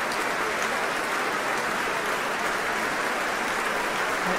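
Sustained, thunderous applause from a full hall greets violinist Lisa Batiashvili after her Beethoven Violin Concerto with the Royal Concertgebouw Orchestra. Countless hands blend into an even, roaring patter that holds steady throughout.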